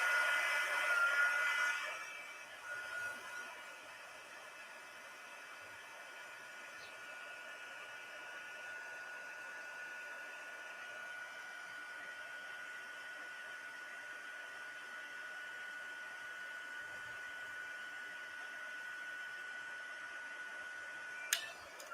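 A heat embossing tool blows a steady, even whir to melt embossing powder on a paper craft gift box project, close and continuous with a few faint ticks and no talking.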